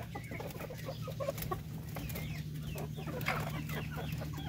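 A backyard flock of twelve native Filipino chickens, ten hens and two males including a rooster, cluck and chatter steadily and fairly near, with a low constant hum running beneath.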